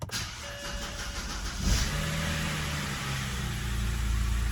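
A BMW N52 engine cranks and catches to life, then settles into a steady, smooth idle hum close by in a garage.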